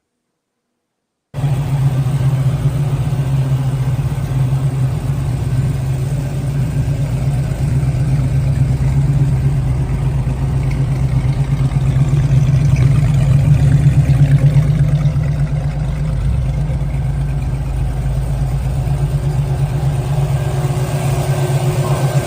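A 1971 Chevy Camaro V8 runs in a steady, loud, low rumble for about twenty seconds, swelling slightly midway as if lightly revved, with no talking over it.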